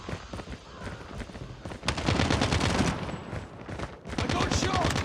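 Gunfire in the Call of Duty Mobile video game: rapid bursts of automatic shots, rising louder midway and again near the end, with no voices.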